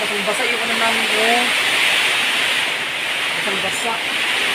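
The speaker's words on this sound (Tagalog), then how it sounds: "Lakas ng ulan." Loud, steady downpour of heavy rain with wind hisses throughout, while a voice talks over it in the first second or so and briefly near the end.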